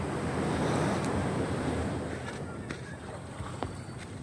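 Ocean waves at sea heard from a boat, a dense rushing wash mixed with gusty wind buffeting the microphone, strongest at first and easing slightly, with a voice faintly present.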